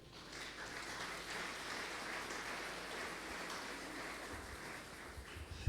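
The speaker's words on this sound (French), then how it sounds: "Est-ce qu'on peut acclamer le Seigneur?" A church congregation at Sunday worship applauding, a steady patter of many hands clapping at moderate distance that fills the whole space evenly and continuously without any talk.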